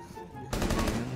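Rapid automatic gunfire in Rainbow Six Siege erupts abruptly halfway through, loud and close with a dense burst texture.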